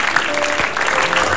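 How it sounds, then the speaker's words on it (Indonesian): Studio audience applause at an Indonesian television comedy talk show, a dense, loud wash of clapping that fills the whole moment without a break. "tepuk tangan dong"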